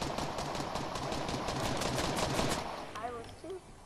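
Rapid automatic gunfire from Fortnite Battle Royale rattles in dense bursts for several seconds, with a voice speaking briefly near the end.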